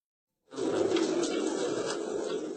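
Pigeons held after a bank seizure make a steady, moderately loud mass of cooing and rustling that starts abruptly and continues without pause.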